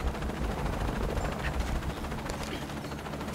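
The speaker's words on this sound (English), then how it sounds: "Laura, I'm in a chopper" Helicopter in the video game Shadow of the Tomb Raider, a steady dense rotor and engine roar filling the scene with constant loudness throughout.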